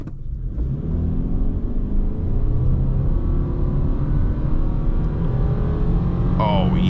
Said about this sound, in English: Feel the CVT. It sounds somehow a little bit more refined